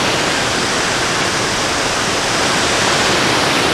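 Roddlesworth Waterfall pours steadily in a dense, loud, unbroken rush of falling water, heard close up from the riverbank with no pauses or other sounds.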